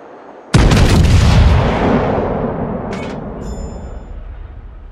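A battleship salvo from the Bismarck in World of Warships booms suddenly, one loud close blast rolling into a long fading rumble, followed by faint mechanical clicks.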